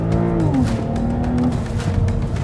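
A road car fitted with Formula 1 wheels runs a slalom test, its engine droning loud and close with a rising then steady tone and slight tire squeal as it weaves.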